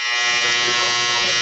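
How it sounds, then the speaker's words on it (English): A clothes dryer's buzzer going off: a loud, steady, harsh electronic buzz that holds unbroken for the whole moment, with no voices. "That's the dryer going off."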